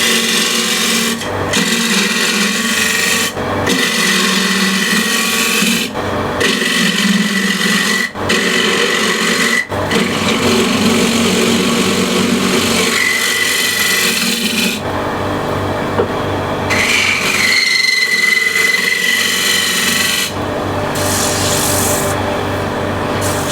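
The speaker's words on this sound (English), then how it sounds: "So I'll use a shear scraper." A shear scraper cuts Osage orange wood on a lathe with a steady, loud rasping scrape over the spinning hum, broken by short pauses and repositioning knocks, with faint squeaks later on and no talk.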